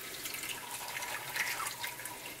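Oat milk drips through a straining bag, a soft continuous patter of fine droplets with a light watery hiss, close and fairly quiet with no one speaking.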